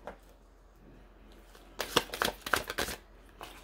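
Tarot cards being shuffled by hand, a quiet lead-in followed by a close burst of rapid riffling flutters and slaps lasting about two seconds, with no talking over it.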